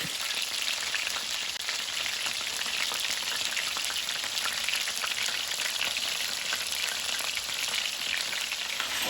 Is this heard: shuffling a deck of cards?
no